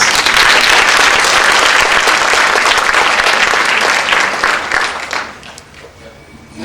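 An audience applauding after an answer at an academic lecture, with loud, dense clapping from a full room that holds steady and then tapers off toward the end.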